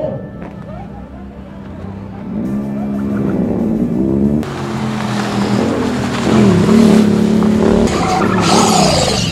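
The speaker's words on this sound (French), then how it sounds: "le bruit des moteurs, le ronflement, les drifts" Hybrid turbocharged 2.0-litre race car engine roaring loudly through revs and drift slides, engine note rising and falling with tyre noise, voices talking throughout over the continuous racket.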